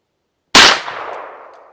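One sharp gunshot from a 9mm carbine firing a standard-pressure 124 grain XTP load, a loud sudden crack that decays into a ringing tail over about a second, alone without talk.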